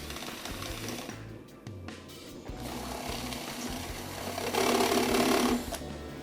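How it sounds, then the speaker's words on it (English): A step drill bit enlarges holes in a metal lightsaber hilt, producing a steady, fairly quiet whirring grind that rises slightly in intensity toward the end, with no talking. "using a step bit, I'm going to enlarge the holes on both sides of this"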